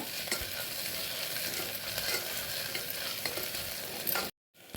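Onions and vegetables sauté in a pan for veg biryani, giving a dense, continuous sizzle with occasional stirring scrapes. The sound cuts off abruptly near the end, then briefly resumes.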